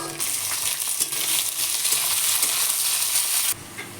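Tempering spices and onion hit hot oil in a wok for egg curry, giving a loud, close, continuous sizzle with stirring scrapes that drops off abruptly near the end. No one speaks.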